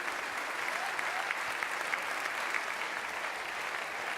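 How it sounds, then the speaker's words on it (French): Steady, dense applause fills a stage ceremony at the Vendée Globe 2017 sailing trophy awards as the Ocean's 11 skippers gather, a continuous wash of clapping from a large audience with no pauses. "vous applaudisse à nouveau."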